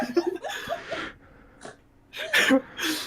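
A sharp sneeze bursts out near the end, preceded by breathy vocal sounds and a short gasp.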